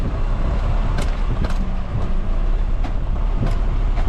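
A truck is turned around at a rock-wall worksite, its engine rumbling loud and steady, with sharp clanks and knocks breaking through now and then.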